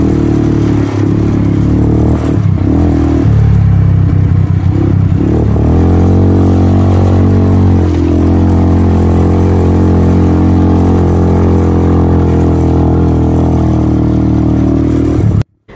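A motorcycle ridden through the desert near Pushkar, with a steady mid-pitched engine drone and some revving and clatter running loud and continuous throughout.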